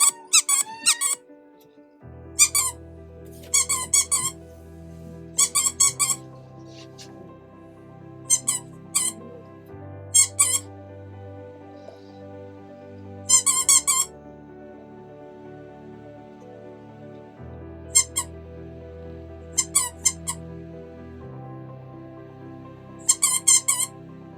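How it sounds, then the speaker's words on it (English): Squeaky dog toy being squeezed for young puppies, giving short clustered bursts of high squeaks repeated every second or two, close and clear over a low steady background hum. "So today I'm going to introduce the puppies to a Squeaky toy."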